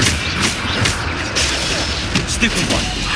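A Bombarda explosion spell in the Hogwarts Legacy video game booms amid dense, continuous combat noise and crashing impacts, loud and close, with a voice calling out over it.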